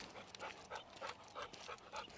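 Large dog panting steadily in the background, a rhythmic series of breathy puffs about every third of a second, close but fairly quiet with no talk over it.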